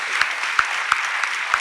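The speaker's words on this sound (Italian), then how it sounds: "proporrei subito un applauso per Tony" Audience applause greets speaker Tony Soligon at a conference, a dense steady patter of clapping with a few louder individual claps standing out at regular intervals, close and sustained.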